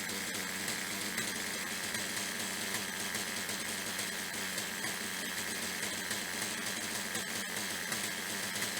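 A small nitro model engine idles steadily and loudly throughout, a continuous buzzing drone with no talk over it.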